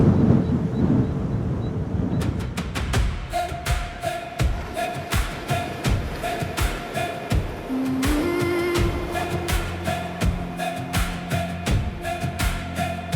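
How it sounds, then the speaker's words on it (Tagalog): Strong typhoon wind buffets the microphone in rough gusts on Sabtang Island, Batanes, later joined by music with a steady beat. "Medyo malakas yung hangin ngayon dahil nga mayroong bagyo"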